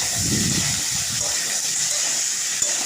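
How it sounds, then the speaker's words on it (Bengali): Cumin seeds, green chili and bay leaf hit hot oil with a loud, rushing sizzle, a dense steady hiss that starts with a brief low burst and carries on evenly, close by. "এবার জিরে কাঁচা লঙ্কা তেজপাতা ফোড়ন দিলাম"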